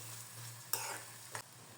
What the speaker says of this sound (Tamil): இப்போ இதில் நம்ம கருவேப்பிலையும் சேர்த்துட்டு வதக்கி விட்டுக்கிற வேண்டியதான்